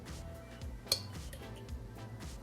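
Up close in a home kitchen, a metal spoon taps and clinks softly against a container while teaspoons of seasoning are measured out. One brighter clink stands out among the steady light taps.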